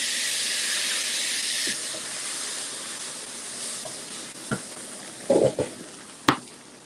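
Boiling water poured into semolina in a pan for halwa gives a steady loud hiss and sizzle like steam that eases after a couple of seconds, followed by a few sharp clanks and bubbling sputters. Nobody talks.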